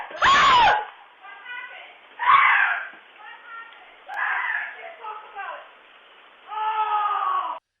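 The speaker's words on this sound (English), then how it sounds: "he started screaming like a 6-year-old girl" A man screams in fright after spotting a little mouse outside, giving high, shrill, wavering shrieks in four loud bursts separated by short breathy gaps, close and sounding like a young child's wail.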